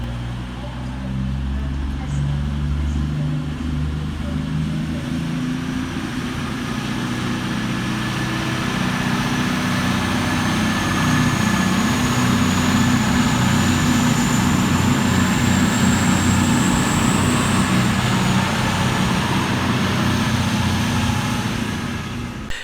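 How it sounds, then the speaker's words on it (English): Cross-country train 221122 departs from the far side of Stockport station on the Bristol Temple Meads to Manchester Piccadilly service, running late. A steady engine rumble and rail roar swells slightly as it pulls away. "Departing over on the far side 24 minutes late is 221122, working the 1551 cross-country service from Bristol Temple Meads through to Manchester Piccadilly."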